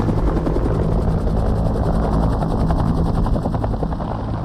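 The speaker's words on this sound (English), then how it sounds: "one ship, more than any other, shoulders the load. Belled Helicopters Huey." A Bell UH-1 Huey helicopter flies nearby, its steady rotor thumping and turbine whine loud and continuous throughout.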